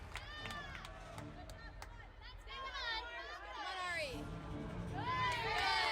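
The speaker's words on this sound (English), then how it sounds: "Lots of cheering happening for Ari" Crowd at a women's NCAA gymnastics meet between William & Mary and Alaska cheers for a gymnast, a steady murmur of voices with cheering rising near the end, under a commentator's talk.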